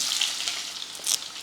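Onions, garlic and curry leaves sautéing in hot oil in a pan, a close steady hiss with soft stirring scrapes and brief louder sizzle bursts, no talking.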